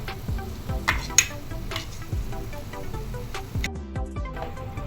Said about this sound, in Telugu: చూడండి అల్లం వేస్తున్నాం అల్లం పేస్టు చూసారు కదా